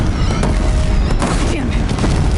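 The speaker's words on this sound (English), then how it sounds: "Springers keep firing, this bridge will go." Springer machines fire in Horizon Zero Dawn, a steady roar of dense, overlapping booms and blasts that sounds close and loud throughout with no clear pauses.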